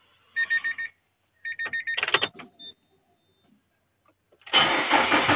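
A car's dashboard gives a few electronic beeps and chimes, then after a short pause the engine cranks and fires up close by, running loudly to the end.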